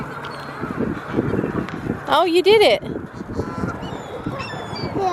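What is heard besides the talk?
geese honking by the water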